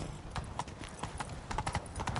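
Roach, a horse in the video game Witcher 3, gallops with a rapid irregular clip-clop of hooves at moderate volume and no talk over it.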